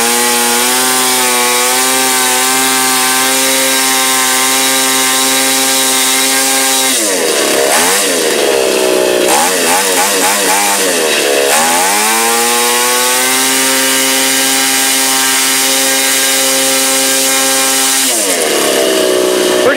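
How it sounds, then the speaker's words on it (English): A Stihl 027 chainsaw engine, carburetor suspected faulty, runs close and steady, a harmonic engine hum that dips and wavers a few times as the throttle is blipped, then settles back to a constant drone. "It's a nice motor, man. Pretty smooth idle."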